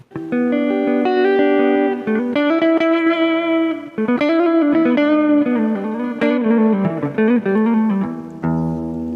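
Electric guitar played clean through an ARTEC G200R 200-watt amplifier with spring reverb, ringing chords and melodic runs with a touch of chorus and reverb, steady and loud with no talking.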